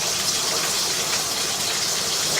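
Heavy water rushes steadily through a residential sewer line during an inspection and root removal, a loud, continuous broadband gush with no pauses.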